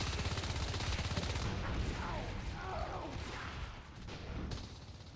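Shotgun fire in a competitive team shooter match, sounding as dense, rapid bursts of gunshots over a constant noisy din of in-game action, fairly muffled and low in level throughout.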